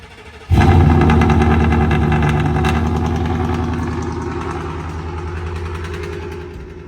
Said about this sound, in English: warm up for a few minutes before we leave, start the truck, and I really hope I don't bother any of this guy's neighbors, because y'all know how loud this thing is